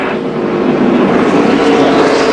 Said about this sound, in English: Sound like engine problems.